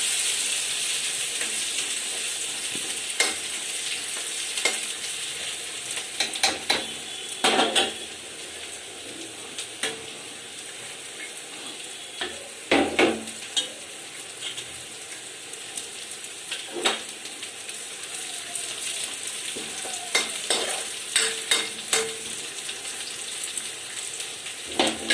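Masala for rajma sizzles loudly in a hot pan, a dense continuous frying hiss with repeated clanks and scrapes of a spoon stirring against the metal, and no voices.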